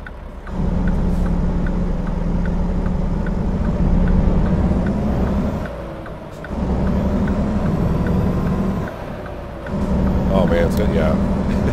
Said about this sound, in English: Engine does sound beefy.